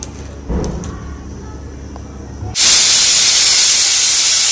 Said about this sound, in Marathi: तर आपल्या कुकरला आता 4 शिट्ट्या देऊन झालेल्या आहेत